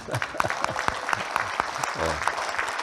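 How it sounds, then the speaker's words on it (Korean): Audience applause at a church seminar, a short burst of scattered clapping that rises and fades within a few seconds while a voice speaks over it. "박수 한 번 더."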